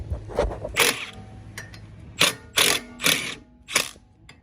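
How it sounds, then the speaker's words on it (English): A 12mm mini impact wrench removes brake bolts on a Toyota MR2 Spyder (MR-S). It sounds as about five sharp rattling bursts, close and loud, with short pauses between them. "got my little mini impact, 12mm right there"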